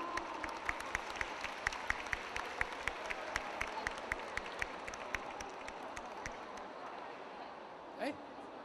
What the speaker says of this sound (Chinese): 用热烈掌声欢迎他。